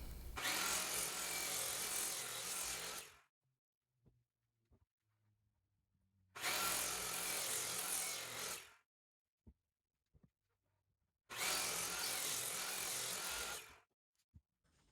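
A power saw cuts the excess off wooden boards for Lego shelves in three loud, close bursts of roughly three seconds each, with quiet gaps and small handling clicks between the cuts.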